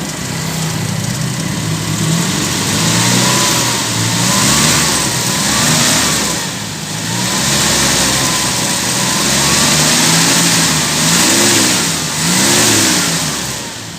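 A 1981 Toyota Kijang KF-20 pick-up engine revs up and down in repeated surges over a steady idle, close and loud, with no talking.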